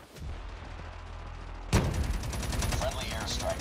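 Gunfire in the mobile shooter Call of Duty Mobile, a sharp burst kicking in midway and continuing as rapid dense shots over a low rumble, with voices talking underneath.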